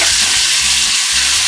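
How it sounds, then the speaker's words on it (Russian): Potato pieces fry in hot oil with ground spices while being stirred in a pan, giving a steady close sizzle broken by scraping stirring strokes. "Картошечку сейчас немножко обжарим."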